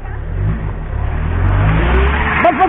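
A car engine revs and labors on a snowy road, its low drone swelling and holding steady and loud, with brief voices rising near the end.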